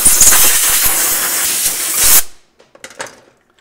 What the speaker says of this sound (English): And I actually compressed air another time.